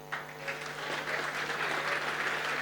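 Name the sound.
audience applause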